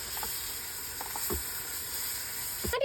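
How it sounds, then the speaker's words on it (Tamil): Ginger garlic paste hitting golden fried onions in a pot for mutton biryani cooked outdoors in a backyard, a steady close hiss of sizzling oil with a few scraping stirs and a louder spit near the end. "வெங்காயம் வந்து கோல்டன் பிரவுன் ஆன உடனே இஞ்சி பூண்டு பேஸ்ட் போடணும்."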